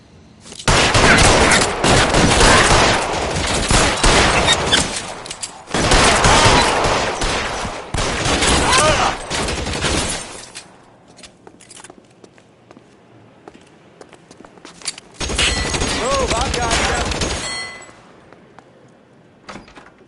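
Gunfire in the video game L.A. Noire, long dense bursts of rapid shots in three loud volleys separated by a quieter stretch of faint movement.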